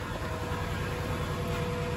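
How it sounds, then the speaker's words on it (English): A steady, constant mechanical drone with a low engine rumble from a generator running nearby without pause. "the constant noise you can hear is my generator"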